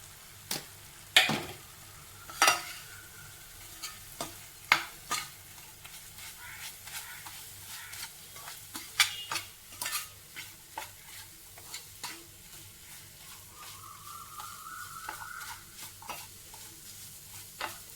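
Avul laddu mixture of beaten rice being stirred in a pan on low heat, giving a faint, soft scraping and gentle sizzle with a steady string of distinct spoon strokes and taps at irregular intervals.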